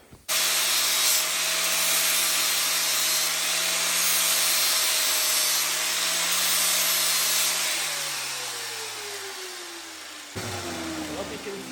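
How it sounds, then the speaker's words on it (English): A sander runs steadily on metal being prepped for welding on a race boat, a loud, even grinding whine with a motor hum that winds down and fades near the end. "hit these with a sander before I do any welding"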